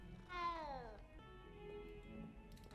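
A cat meows in a Harry Potter video game, a single drawn-out falling meow, clear and fairly close, followed by faint ambient game sound.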